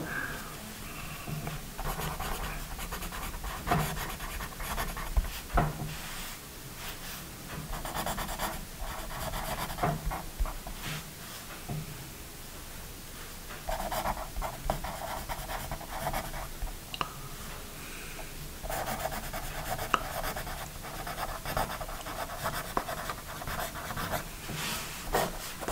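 A Bic Xtra Fun pencil scratches across paper close up in irregular bursts of strokes, with brief pauses between them.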